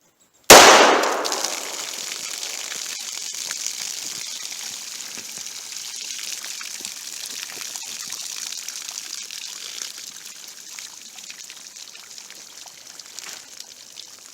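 A .38 Special revolver fired into water jugs set behind a meat target: one sharp, loud shot followed by a long splashing, trickling spill of water that fades slowly over many seconds.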